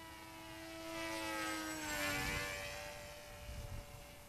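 Small-motor RC plane flying on the AIR3 with iNav, a steady buzzing propeller whine that swells as it passes closer and then fades slightly.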